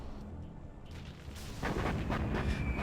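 Artillery shells and a carpet bombing run land in a Generals Zero Hour match, starting as a low distant rumble and swelling into a loud, dense barrage of overlapping booms in the second half.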